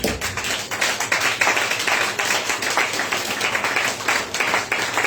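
A church congregation clapping and acclaiming the Lord, with rapid, rhythmic hand claps in a continuous, lively stream filling the room from start to finish.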